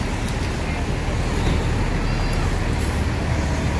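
A new Putra Remaja 206 intercity bus, fully loaded with passengers, pulls away amid steady roadway traffic, with a loud continuous engine and road rumble and faint background voices.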